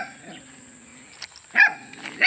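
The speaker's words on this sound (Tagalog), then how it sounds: "Matahol-tahol yung aso" A native dog barks twice up close, short sharp barks separated by a pause, with quiet background hum between them.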